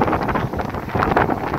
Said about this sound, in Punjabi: ਹਨੇਰੀ ਦੇ ਨਾਲ ਨਾਲ ਬਾਰਿਸ਼ ਤੇਜ਼ ਹੋਣ ਡਈ ਹੈ